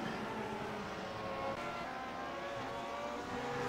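Koff race car at Brands Hatch in Grand Prix Legends, a vintage-style racing sim, with a steady, busy engine roar from several cars circling at moderate distance and no single clear pass.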